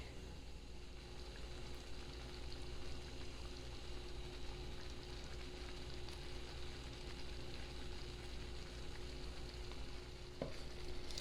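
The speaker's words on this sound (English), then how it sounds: "We're just going to stir it a little longer so it reaches the consistency that we want" Sausage gravy being stirred in a pan on the stove, a faint continuous bubbling and low sizzle with soft scraping, quiet and steady throughout.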